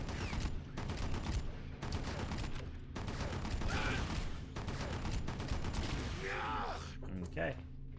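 Gunfire in the PS2 shooter Red Faction, sustained bursts of shots aimed at an enemy, loud and dense across the clip with game effects and mechanical noise layered in.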